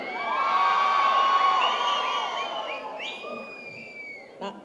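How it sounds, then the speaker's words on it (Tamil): An audience at a Tamil comedy stage show cheers and shouts for a TV actress, with high whoops and cries rising over a crowd roar that gradually tapers off. "எங்கள் சின்னத்திரை நயன்தாரா அக்காவிற்கு ஒரு பெரிய கைத்தட்டல்."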